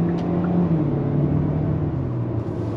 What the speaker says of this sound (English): we're gonna get on the highway and see how this Kia Soul